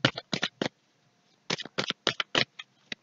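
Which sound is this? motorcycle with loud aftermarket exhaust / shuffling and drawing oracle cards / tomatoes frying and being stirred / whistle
shuffling and drawing oracle cards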